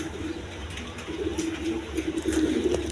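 Pigeons coo in a loft, a steady, close, low warbling murmur from several birds that continues without pause, with no one speaking.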